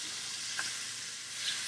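A soft shell blue crab sears in a hot pan, giving a steady, close sizzle with faint crackles and no voices.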